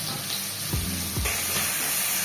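Chopped tomato frying in a pan for a jackfruit and shrimp dish, a continuous hiss of sizzling with a couple of soft low stirring scrapes, heard close with no voices.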